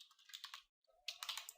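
Fingers type on a computer keyboard in two quick bursts of close, light key clicks separated by a brief pause, with no voices.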